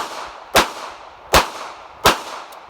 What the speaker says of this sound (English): I'm going to go akimbo, 2 38 specials.